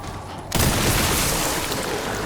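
Sniper rifle fire in the video game Resident Evil Requiem, set in Raccoon City: after a quiet half second a loud, dense burst of gunfire erupts and carries on as a sustained, close barrage.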